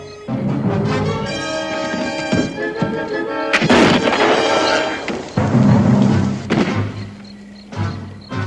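Gunfire from a frontier-era firearm in a dramatized outdoor confrontation, several loud booming shots and thuds in close succession over a continuous rumble of background sound until the firing stops.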